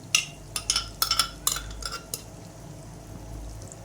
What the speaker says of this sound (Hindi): ये पेस्ट अभी हमने इसमें डाल दिया ऑयल में।